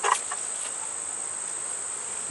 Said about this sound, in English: Got bees in here in the feeder.